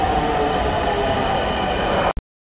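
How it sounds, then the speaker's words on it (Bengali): A train pulling into a station in Dhaka, a loud continuous roar and rumble of railcars that cuts off abruptly. "এন্ড ফাইনালি আমাদের ট্রেনটি চলে আসে"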